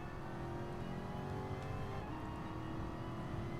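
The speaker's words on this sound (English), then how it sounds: "Drifting the Pantera, boys." A De Tomaso Pantera drifts in Gran Turismo Sport, its engine holding a steady, fairly quiet drone with a slight pitch shift midway and no tire screech standing out.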